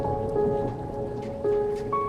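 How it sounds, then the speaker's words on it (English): Steady rain during a storm hisses across a broad band, with a low rumble beneath and a few sustained tones over it, and no talking. "The rain is your shield, creating a private world just for you."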